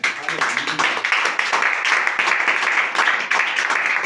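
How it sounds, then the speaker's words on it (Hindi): Audience applause during a Christian sermon on Christmas, given after the preacher calls for a big round of clapping. Steady, fairly dense hand-clapping goes on for about four seconds at moderate loudness, with no talk over it. "एक बार जोरदार ताली है।"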